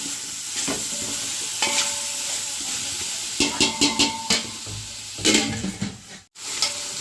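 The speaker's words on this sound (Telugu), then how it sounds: "ఉప్పు వేసుకొని బాగా కలుపుకోవాలి ముక్కలో పట్టేటట్టుగా" Chicken pieces are stirred with salt and spices in a pan, giving a steady sizzle with a run of scraping stirring strokes and a brief clink, close up and without talk.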